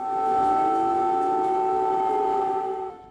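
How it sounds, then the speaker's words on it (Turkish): Air raid sirens in the streets of Kyiv sound as one steady, sustained wailing tone with harmonics, loud throughout and fading slightly at the end, with no voices. "Kiev sokaklarında 3 saat hava saldırısı sirenleri yankılandı."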